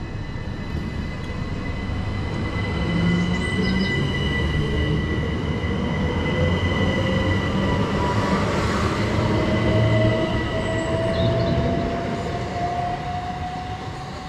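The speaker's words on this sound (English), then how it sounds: "here we are at Stonegate, and the partner now is the 375s, 922 and 829, heading to London Charing Cross." Class 375 electric trains at Stonegate station heading for London Charing Cross, a loud sustained rumble of passing carriages with wheel hum and a rising squeal, no speech.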